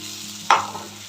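Prawns being stirred in a hot frying pan: a single brief scrape-and-sizzle burst over a low steady background, close and moderately loud, with no voices.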